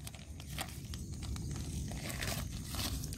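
Plastic wrapping is torn and crinkled off a potted plant during unboxing, a close, continuous rustle with bursts of ripping and crackling over about three seconds.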